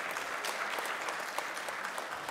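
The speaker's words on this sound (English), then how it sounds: "Come on, they deserve a round of applause." Steady audience applause fills a signing-day ceremony hall, dense and continuous with no break, and a little crowd noise mixed in.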